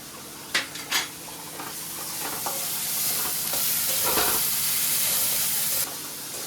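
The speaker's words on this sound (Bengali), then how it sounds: "এই মশলাটা হালকা ভাজা হয়ে গেছে" Spices for a chhana kofta curry frying lightly in oil in a pan give a steady close sizzle with stirring scrapes and a couple of sharp utensil clinks near the start, without any talk.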